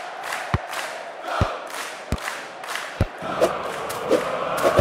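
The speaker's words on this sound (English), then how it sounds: "The fans are booing." Crowd noise from a soccer video game match, a steady broad roar of fans with sharp thuds from the ball striking at intervals, no clear booing distinguishable over the din.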